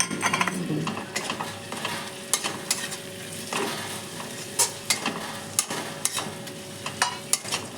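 Garlic paste frying in a pan for omelette and potato curry, with a steady sizzle broken by frequent sharp spatula scrapes and clinks against the metal, close and fairly loud, no talking.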